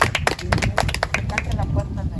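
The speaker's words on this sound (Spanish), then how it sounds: "Un aplauso para ellos." People gathered at a family memorial gathering give a short, close round of applause. The clapping is dense and mixed with voices talking over it.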